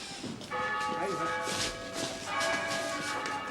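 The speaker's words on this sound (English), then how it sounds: "The church bells. It's the bells." Church bells ring out steadily in a village, with several bright, overlapping tones sounding at a moderate distance while some shuffling and thumping happen nearby.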